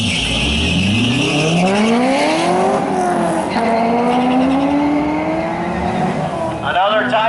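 Corvettes drag racing side by side at Coles County Dragway during a Corvette Funfest event, engines roaring loudly and rising in pitch as they accelerate down the strip, with a brief tire screech near the end.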